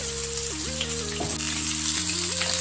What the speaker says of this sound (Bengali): এবারে তেল গরম হয়ে গেছে, আলু দিচ্ছি। আলুটা একটু লাল লাল করে ভেজে নেব।